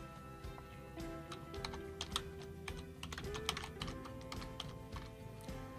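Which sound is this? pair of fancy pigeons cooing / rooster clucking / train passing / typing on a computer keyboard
typing on a computer keyboard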